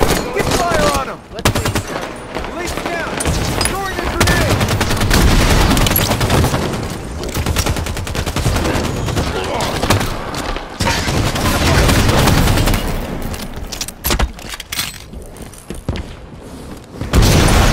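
Gunfire in the Halo video game: dense, loud bursts of automatic fire and booming shots rattle almost continuously, with shouted voices mixed in among the battle noise.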